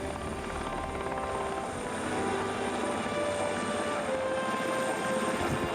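A rescue helicopter in flight, a steady, loud rotor and engine drone with a continuous whine that holds evenly throughout.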